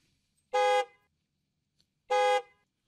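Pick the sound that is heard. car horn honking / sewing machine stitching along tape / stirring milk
car horn honking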